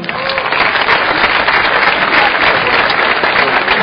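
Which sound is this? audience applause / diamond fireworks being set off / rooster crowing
audience applause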